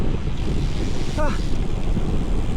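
Strong wind blasts across a motorcycle on the move, a dense, constant roar of buffeting on the microphone, with a short warbling whistle partway through.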